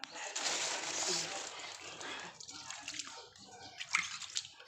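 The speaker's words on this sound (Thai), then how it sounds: "เดี๋ยวผมจะเปิดน้ำดูนะครับ" Tap water runs from a faucet, a broad steady hissing splash that is loudest over the first two seconds and then turns thinner and more broken, with drips and clinks. Faint talk sits underneath.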